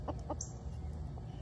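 Chickens cluck softly inside a chicken coop, a few short, quiet clucks scattered over a low background rumble.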